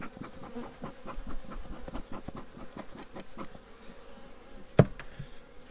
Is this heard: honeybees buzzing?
yes